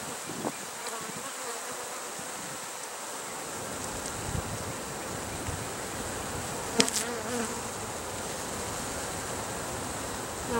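Honey bees swarm around an opened hive, a dense, continuous buzzing close by with individual bees droning past, light wind on the microphone and a brief knock partway through.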